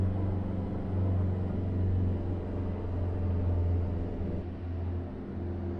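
A heavy truck's jake brake in American Truck Simulator on a downhill grade in Arizona, a deep, steady engine-braking rumble with a throbbing low drone that holds constant throughout, with no talk.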